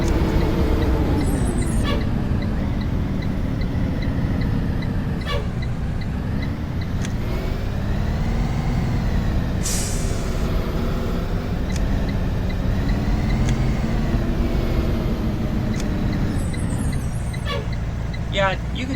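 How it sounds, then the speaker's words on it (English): In the Rigs of Rods game, a Blue Bird GMC CV200 school bus engine drones steadily with rising and falling revs as it shifts through gears, with air brake hisses and a voice talking over it throughout. "you can tell this bus is running way better than it was."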